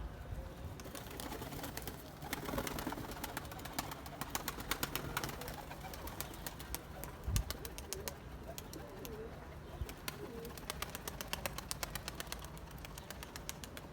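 Pigeons coo and rustle throughout, with scattered soft wingbeats and clicks against a quiet outdoor background, no talking.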